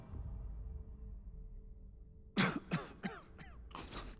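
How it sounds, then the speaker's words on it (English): A man coughs and clears his throat in a quick cluster of harsh, loud bursts, close up, after a stretch of quiet low background hum during play of the game Starfield. "Coughing as I'm doing all this."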